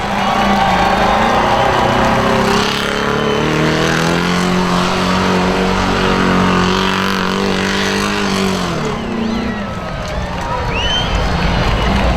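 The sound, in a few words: monster truck engine revving at a fair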